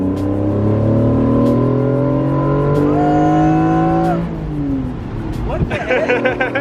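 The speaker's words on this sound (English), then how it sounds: "do a pull so you can feel the VTEC" A Honda car accelerates hard with VTEC engaging, the engine note climbing steadily and loud before a gear change, with people talking over the cabin noise.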